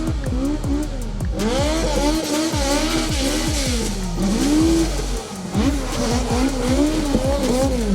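Drift car at a high-speed drift competition, its chassis damaged, pushes through a run with loud, continuous tire squeal and skidding over a wavering, revving engine that rises and falls throughout, close and unbroken.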